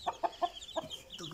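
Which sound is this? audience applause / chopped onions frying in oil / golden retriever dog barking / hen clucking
hen clucking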